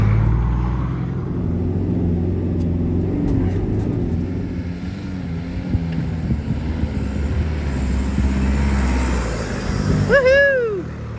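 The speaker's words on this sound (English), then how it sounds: "Here comes Cody in Terry's truck." A 4WD truck named the Dune Raper, driven by Cody, labours up a steep, soft desert dune in the Simpson Desert, its engine droning loud and low, rising in strain toward the end as a voice calls out over it.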